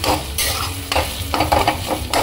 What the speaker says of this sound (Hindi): अब आलू हमारे भून गए हैं, देखो ये चिपक रहा है